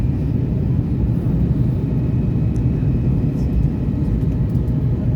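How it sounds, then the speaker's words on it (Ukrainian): Airplane landing at Krakow, heard from the cabin as a loud, steady low engine roar and rumble throughout. "Ми сідаємо у Кракові."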